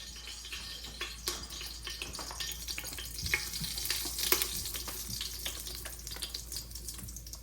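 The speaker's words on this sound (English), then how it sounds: "I'm gonna go ahead and pour some curry in there to burn." Curry powder burns in hot oil in a pot for Jamaican curry goat, a crackling sizzle with sharp spits and pops and occasional stirring scrapes, moderately loud and steady.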